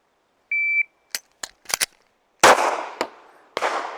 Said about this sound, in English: shoot one, nothing happens, tap, rack, shoot another